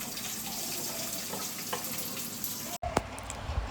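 Onions frying in oil with cumin and mustard seeds, a steady close hiss of sizzling that holds throughout, broken by a brief clatter of utensil noise near the end.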